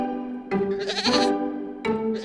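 Goat bleating on a farm: two loud, wavering bleats, one long cry and then a second that starts near the end, close and clear with no talk.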